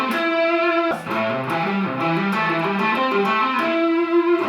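A distorted electric guitar plays an economy-picked sweep arpeggio with a hammer-on, a quick run of bright picked notes that climbs and settles into a held note, played alone and close.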